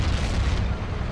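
A tank shell striking a Sherman in Battlefield 1942, a heavy booming blast with a long rumbling roar that fills the moment and fades, no voices.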